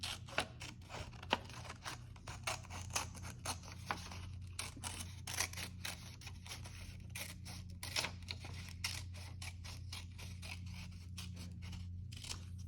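Scissors snip through strips of paper in a fast, steady series of crisp close cuts, dozens of sharp clicks over a low background hum, with no talking.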